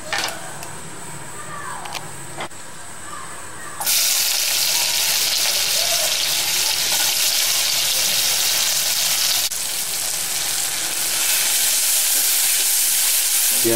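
Onions dropped into hot oil for a Bangladeshi beef curry, a quiet kitchen ambience that bursts into loud, steady sizzling and hissing frying which continues unbroken at close range.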